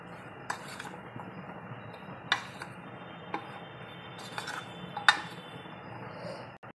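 Spoon stirring taro pieces coated in flour in a bowl, soft scraping and mushy rustling broken by several sharp metallic clinks against the dish, close up with no talking.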